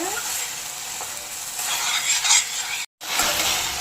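Chilli chicken sizzles and fries in a pan while being stirred, a steady loud hiss with scraping and stirring sounds throughout, close and continuous, with a brief cut near the end.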